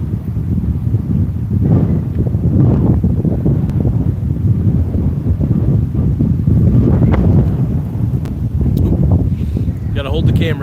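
Wind gusts buffet a handheld camera microphone outdoors in a public park, a continuous loud rumbling roar that swells and dips across the whole stretch.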